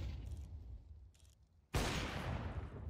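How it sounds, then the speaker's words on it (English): Gunfire in an esports video game match between Eternal Fire and EC Static, with Deagle pistols in play: quiet in-game ambience suddenly breaks into a loud, sustained burst of shooting that carries on to the end. "A shot from Acor"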